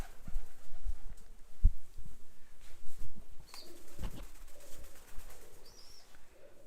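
Pigeons in a city near old pools give soft, low cooing notes that rise and fall in short phrases, with occasional wing flutters and light background noise, fairly close and at moderate volume.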